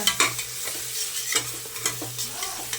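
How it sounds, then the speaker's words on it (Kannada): Spices frying in a pan for egg biryani with chili powder, a close, steady sizzle broken by repeated scraping stirs of a spoon against the pan, with no talking. "ನೋಡಿ ಫ್ರೈ ಆಗ್ತಾ ಇದೆ."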